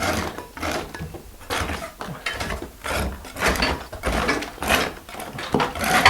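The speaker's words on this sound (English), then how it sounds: "We just scrape it off." Texture is scraped off an interior wall in repeated close rasping strokes, each scrape a short gritty burst in an uneven rhythm, with no talk.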